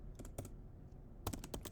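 Typing on a computer keyboard: two short bursts of close, crisp key clicks separated by a pause, quiet and alone without speech.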